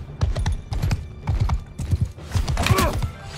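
Horse hooves gallop in a steady, rapid rhythm in the video game Mount & Blade Bannerlord, loud and close with clattering footfalls throughout.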